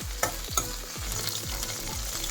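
Green chillies for a mint chutney fry in a pan with a bright steady sizzle and a rhythmic series of stirring knocks roughly every half second, no talking.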